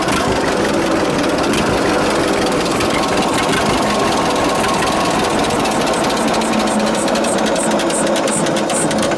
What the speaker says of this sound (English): Horizontal 2-cylinder John Deere engines, eh?